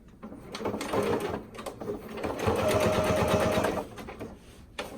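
A domestic sewing machine stitches a skirt seam, its fast, even mechanical chatter running steadily at close range and pausing briefly between short runs.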